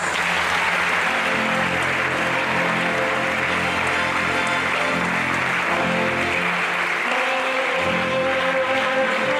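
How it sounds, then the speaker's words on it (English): A large crowd at an academic lecture applauds loudly and continuously, a dense steady roar of clapping with no speech. "authenticate this professor with another round of deafening applause."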